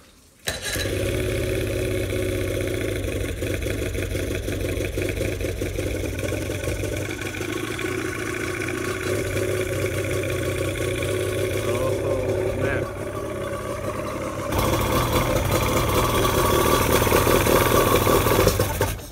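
An old outboard-style engine on a 1985 StarCraft center console boat, running on old fuel with water in it, cranks and catches, then runs loud and rough at a steady idle with a brief surge near the end.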